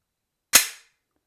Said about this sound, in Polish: zwalniamy zamek, wciskając tą dźwignię.